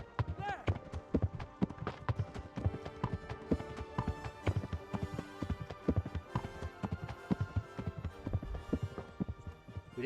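Horse hooves clop and thud in a quick, uneven rhythm in the medieval game Kingdom Come: Deliverance, mixed with other game sounds and a steady background.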